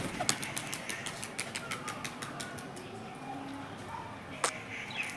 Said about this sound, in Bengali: তো আমি এবার আপনাদেরকে দেখাবো যে এই পায়রাটা কেমন কি উড়বে